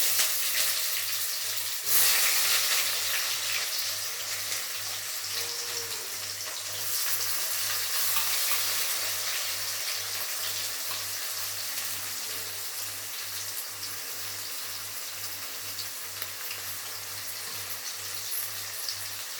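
Chopped onions fry in oil with mustard seeds, cumin and fenugreek, making a long, even sizzle at moderate volume. A steady low hum sits under it, with no talking.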